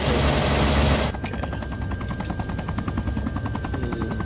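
Rapid, sustained machine-gun fire from helicopter door gunners in the video game ARMA 3, a Blackhawk, rattling steadily after a loud rotor-wash roar cuts off, with a constant whine underneath.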